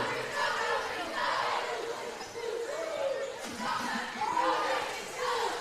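Crowd at a high school girls basketball semifinal in a gym: steady, busy chatter and murmuring from many spectators, with occasional shouts and laughter throughout, fairly loud and continuous.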